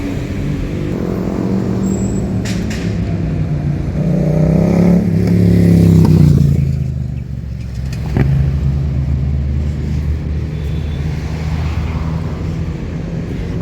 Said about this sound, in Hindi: आप लोगों को ट्रैफिक का भी बहुत ज़्यादा शोर वीडियो में लग रहा होगा।